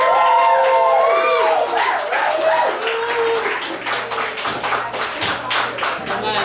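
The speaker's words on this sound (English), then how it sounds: "Give Yaz a round of applause" An audience at a stage show claps as a performer is welcomed, starting with a voice trailing off over the opening applause and settling into loud, distinct individual claps close by.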